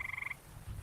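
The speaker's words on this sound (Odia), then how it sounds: "ମୁଁ ଗୋଟେ ବେଙ୍ଗ ଦେଖିଲି, ସେ ଡେଉଁଥିଲା" Frog croaking nearby, a quick pulsing trill lasting about a third of a second, then fading into faint background noise.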